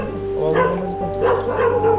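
A dog whimpers and gives short yelping barks outdoors during a typhoon, nearby and moderately loud over a steady rain-like hiss, with a person talking.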